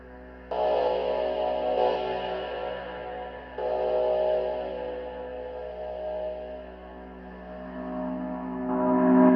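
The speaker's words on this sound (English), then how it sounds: "I use the eventide black hole reverb" Sustained synthesizer tones through an Eventide Blackhole reverb swell and wash out in a long, heavy reverb tail, with chords shifting a few times and trailing echoes filling the space.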